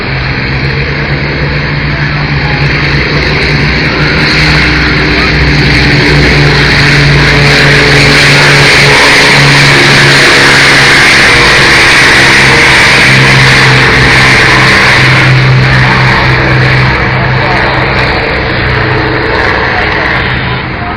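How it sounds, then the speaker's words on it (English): Loud, continuous drone of a B-25 bomber's radial engines running up, a deep, steady roar with a slight swell in pitch and power midway. "And now the radial engines of the B-25."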